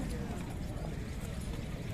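Horse hooves clip-clop steadily at a busy horse fair, a continuous dense clatter blended with crowd noise and a voice talking over it.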